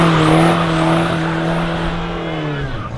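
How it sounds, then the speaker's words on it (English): Omega car fitted with a Volkswagen Beetle diesel engine doing a burnout, a loud, close, sustained engine drone with squealing tires that shifts pitch slightly toward the end. "And it does burnouts."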